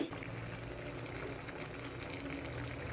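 Mixed vegetables simmer at a steady rolling boil in water for labda, a continuous dense bubbling hiss heard up close, with no talking.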